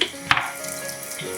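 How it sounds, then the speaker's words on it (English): A refrigerator water filter part is rinsed under running tap water, giving a steady broadband splashing rush with a brief clunk of the part against the sink. "And I keep rinsing it just to get any dust or anything off of it."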